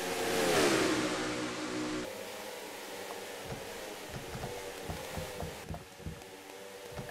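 Race car engine from a racing video game at Dover's steeply banked oval, a loud revving drone that swells and then settles into a steady roar with rhythmic pulses, no voices.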